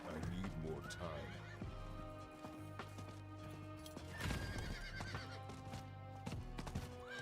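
A horse in the video game Diablo 4 whinnies loudly over steady clip-clopping hooves, with game music and effects layered underneath.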